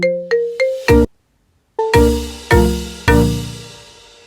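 A custom iPhone ringtone plays as a series of bright, bell-like melodic tones, several quick notes, then a brief silence before louder chiming strikes that ring out and decay, with no talking.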